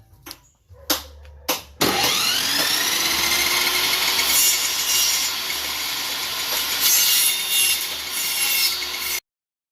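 A saw cuts wood for a mortise and tenon joint, with a couple of knocks at first, then a continuous, close, harsh rasping cut that holds steady for several seconds and stops sharply. There is no talk.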